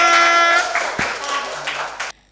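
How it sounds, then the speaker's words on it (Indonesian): A few people clap in a dance-arts class session, giving scattered, uneven claps after a brief spoken voice at the start, then cutting off abruptly near the end. "beri tepuk tangannya buat kita semuanya"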